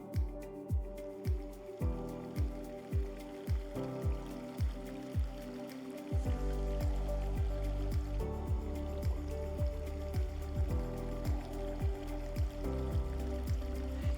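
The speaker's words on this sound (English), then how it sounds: "the gentle sound of water is wonderful in many gardens, and here we've used this corten steel bowl to create a kind of zen kind of feeling within the space" Water trickling and dripping into a corten steel bowl water feature in a small city garden, rhythmic close plops in a regular pattern, becoming a fuller continuous flow about halfway through.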